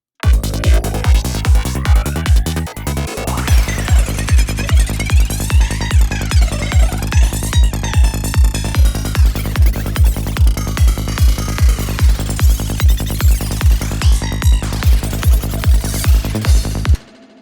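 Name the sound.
processed knife samples with kick drum and bass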